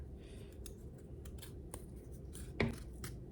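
Dull scissors snip and crunch at a wooden popsicle stick in a quiet room, making several faint, irregular clicks and one louder crack near the end.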